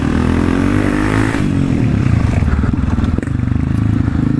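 A Honda CRF 250F off-road motorcycle engine with a reduced gearbox, running loud and close, a steady throbbing idle rising into a revving climb, with no talk over it.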